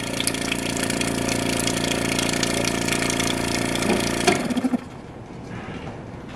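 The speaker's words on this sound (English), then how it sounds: "That has got one heck of a lubrication circuit for a one horsepower compressor" GE CG ball-top refrigerator with a one horsepower compressor running close by, a loud steady mechanical hum and rattle that abruptly cuts out near the end, followed by a few fading knocks and quiet.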